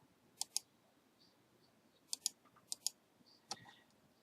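Computer mouse clicks on a software icon: crisp, close, quiet clicks in quick pairs, a double click, then another pair and a single click, with faint small taps between them and no talk.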